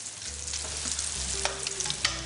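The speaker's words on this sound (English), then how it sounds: "I just have to hear a potato sizzling in the pan and I start to salivate" Steady sizzling of potatoes in a roasting pan in a hot oven, a continuous crackling hiss with occasional sharper pops, close and moderately loud.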